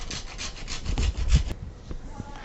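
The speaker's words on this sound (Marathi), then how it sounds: "अगदी एक चिमूटभर होईल इतके आपल्याला इथे जायफळ किसून घ्यायचे आहे" Nutmeg is grated by hand for poha ladoo, giving quick rhythmic rasping strokes against a grater. It is close and fairly loud, then stops after about a second and a half, leaving faint background noise.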